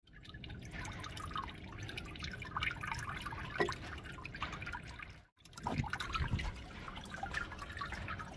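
Water from a pump flows as a sheet over the bed of a Miller table. It makes a soft, continuous trickle and splash with a few louder drips, fairly faint, and briefly drops away near the end.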